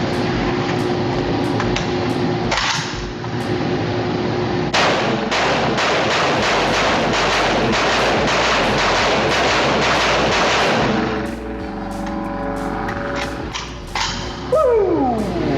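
A CLAW combat light assault weapon fired at a shooting range, loud close sharp reports in irregular bursts and rapid strings of shots, with heavy echo ringing off the range.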